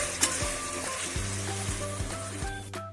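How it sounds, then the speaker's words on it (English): Marinated chicken frying on high flame in a pan, a continuous close sizzle under a steady hum, with regular scraping strokes of a spatula every half second or so. "add the marinated chicken and cook this on high flame for 10 minutes till it changes the color"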